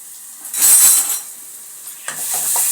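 A paste of ground ginger, garlic, pepper and cumin sautés in a pan for rasam, giving a soft sizzle with light stirring and a few utensil clinks, close and without speech.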